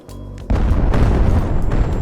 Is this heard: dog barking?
no